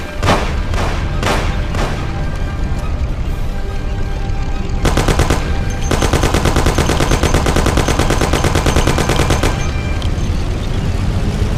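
A Thompson submachine gun fires in the Mafia video game. A few single shots come first, then long, rapid, loud automatic bursts rattle continuously over engine and ambient rumble.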